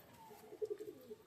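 Desi pigeons give a short, soft burst of throaty cooing, a few quick pulsing notes close by in a quiet space.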